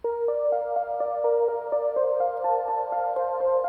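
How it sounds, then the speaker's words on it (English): Synth pad driven by an arpeggiator, steady repeating notes pulsing about four times a second with long reverb tails smearing them together, sitting alone as a soft, sustained bed for an indie singer-songwriter track. "Also this ARP pad, which is just a synth that has an arpeggiator that has a lot of reverb again and really low in the mix."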